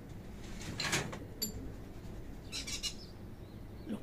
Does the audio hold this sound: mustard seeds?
no